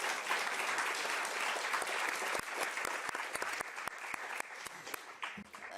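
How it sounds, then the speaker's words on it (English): Audience applause for conference panelists at an economic democracy session, a steady wash of many hands clapping with some louder individual claps standing out, sustained throughout. "I ask for a round of applause to our panelists"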